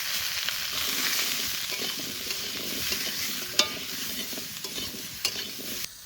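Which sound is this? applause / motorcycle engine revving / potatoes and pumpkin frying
potatoes and pumpkin frying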